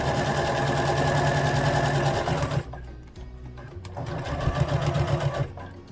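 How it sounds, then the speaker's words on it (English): Sewing machine stitching a fabric seam on a dress top, a loud close rhythmic whirring hum running steadily, pausing briefly, then resuming in shorter bursts. "Sewing down the side."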